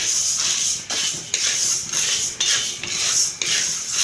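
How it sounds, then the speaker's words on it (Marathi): Gram dal roasts dry in a heavy-bottomed kadhai for besan ladoo, stirred nonstop so it doesn't stick, making rhythmic rasping scrapes of a spatula against metal, about one sweep every half second. "डाळ ही सतत हलवत राहायची आहे लागली नाही पाहिजे"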